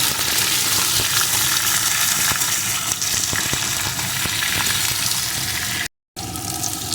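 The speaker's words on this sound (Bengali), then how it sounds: "এখন মিষ্টি কুমড়ো টুকরোগুলোকে দিয়ে দেবো এগুলো সব কিছুর সাথে একটু ভেজে নেব" Pumpkin pieces and pointed gourd fry together in a pan for a vegetarian pumpkin and potato sabji, making a loud, steady sizzle with clattering stirring that cuts out abruptly for a moment before resuming.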